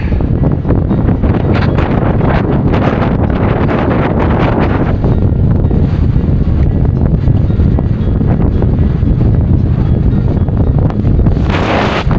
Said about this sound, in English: it's bloody breezy